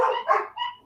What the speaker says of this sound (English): These dogs are really barking a lot.